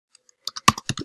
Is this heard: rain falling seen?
no